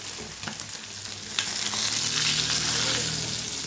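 Paneer fritters sizzle and crackle in oil on a hot tawa, a steady close frying hiss that swells slightly partway through, with no talking.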